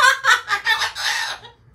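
A talking pet bird at a wildlife sanctuary gives a loud, harsh call in four rapid squawks followed by a longer raspy cry, close up and alone before fading into quiet.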